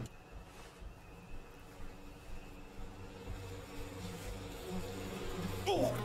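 Bees buzz around a beehive in the video game We Happy Few, a steady, layered drone that hums continuously at moderate loudness with a faint background rumble.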